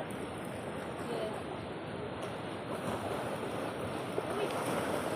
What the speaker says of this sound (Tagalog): Ang lakas-lakas ng mga alon.